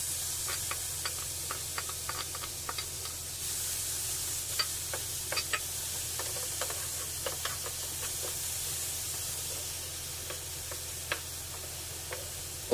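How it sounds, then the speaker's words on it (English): Whole pineapple simmers in caramel in a pan, a soft steady sizzle under frequent light clicks and scrapes of a spoon stirring, close and even throughout. "After adding the whole pineapple, you have to mix well"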